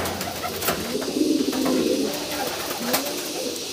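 A young racing pigeon, a tumbler-style high-flying merpati tinggian, coos in a low, soft burbling series near the listener, with a louder swelling phrase in the middle over steady background noise.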